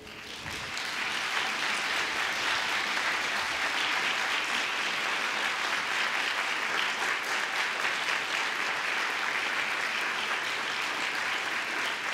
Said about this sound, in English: give a big round of applause for all those people who have been there for you